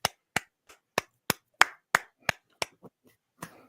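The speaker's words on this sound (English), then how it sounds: "Clap and applaud the joke." Slow, deliberate hand claps, about eleven sharp single claps spaced evenly and heard alone in a quiet room, the last few slightly softer and less regular.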